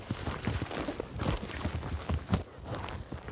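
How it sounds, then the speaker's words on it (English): Hooves of a horse ridden outdoors through a logged training area clip-clop in a quick, uneven rhythm, close and moderately loud, with no talk. "Your horse is out and about jumping logs like this."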